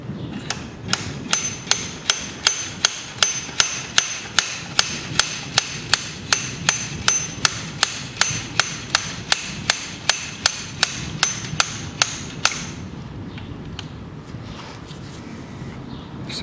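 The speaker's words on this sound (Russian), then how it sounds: "Молоток тот же, который на Эвок использовал." Sharp metallic hammer blows during a right-side valve cover replacement on a 3.0 Land Rover Discovery 4, about twenty-five evenly spaced strikes in a steady rhythm that stop near the end, close and loud with no talk.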